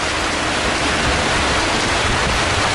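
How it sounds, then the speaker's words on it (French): Heavy rain pours down at sea onto a sailboat in 23-knot wind, a dense, loud, continuous hiss with no talking. "Je crois que c'est la première fois qu'on a autant de pluie."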